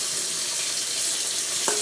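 Butter frying in a pan with a little water already in it, giving a steady close hiss and sizzle throughout, with a brief clink near the end.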